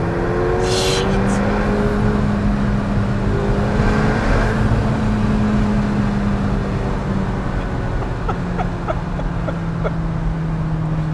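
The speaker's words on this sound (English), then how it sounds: "When the twin turbos, like the air whooshing sound, it's like a really shrill, high pitch" A McLaren 720S twin-turbo car driven hard gives a loud, steady engine drone with a whooshing, shrill whir from inside the cabin, continuous throughout.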